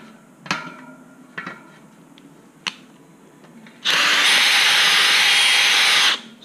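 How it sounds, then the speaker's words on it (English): A power drill bores out metal while installing a Tubliss tire system: a few sharp knocks and clanks come first, then a loud, steady drill whine runs for about two seconds close to the mic and stops abruptly. "So get it drilled out"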